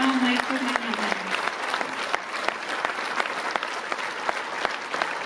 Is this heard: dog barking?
no